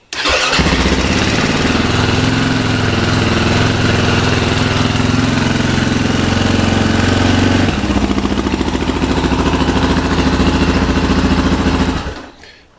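A KTM 530 EXCR motorcycle engine fires up with a touch of throttle and idles loudly and steadily nearby, with a shift in pitch partway through before it cuts off at the end.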